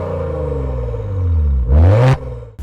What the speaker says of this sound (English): The sound coming out of this V6 is simply incredible.